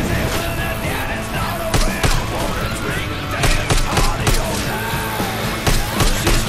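Fireworks launch during the Dark Carnival finale of Left 4 Dead 2, heard as sharp popping bursts and crackling blasts over loud, chaotic gunfire and game noise.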